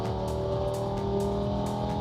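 An Audi RS3 engine tuned toward 800 hp runs in on a dyno at about 1.7 bar boost, giving a steady, loud, droning hum with no clear revving.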